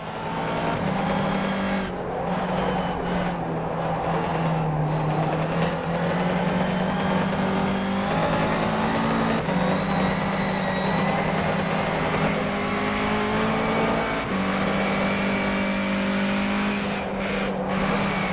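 Race car engine droning steadily through a last lap in a sim-racing video game, its pitch rising and falling with gear changes and corners, loud and continuous with faint tyre noise and no talk.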